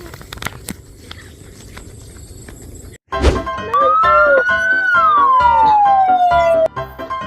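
After a brief hush, a loud cartoon ambulance siren wails and glides in pitch, sweeping steadily over busy background sound for several seconds.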